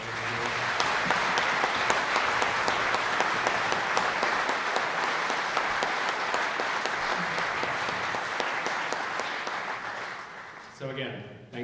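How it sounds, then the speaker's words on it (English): An audience at the 2017 Greater Rochester Chamber of Commerce awards presentation applauds Diane with a dense, steady roar of clapping that holds for about ten seconds before tapering off as a voice resumes. "can we have a moment of applause for Diane?"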